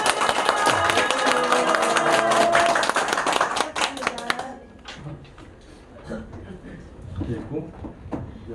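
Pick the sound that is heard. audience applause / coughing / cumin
audience applause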